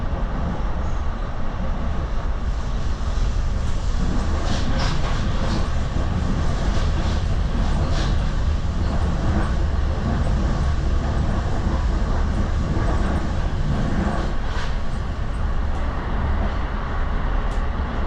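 An NJ Transit train on the Erie Lackawanna line rolls along the rails into New York City, a steady loud rumble of wheels with faint rhythmic clicks and squeals, continuous and close, with no talking.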